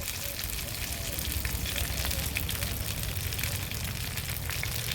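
Fried vegetables for shukto are stirred back into spices in a home pan, giving a continuous soft sizzle and frying hiss with faint scraping, steady and close throughout.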